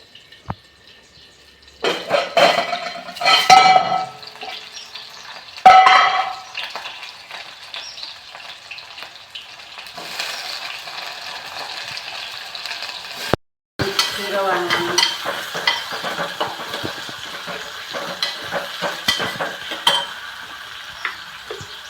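Bitter gourd curry sizzles in a pan in a village kitchen while it is stirred, with steady frying hiss and repeated scraping strokes, some louder bursts near the start.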